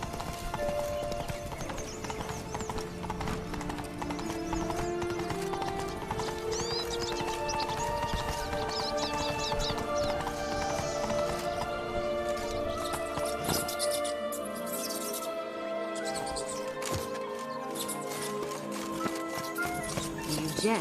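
Roach, a horse in The Witcher 3, gallops with rapid, rhythmic clip-clop hoofbeats over game music and ambient sound, steady and close throughout.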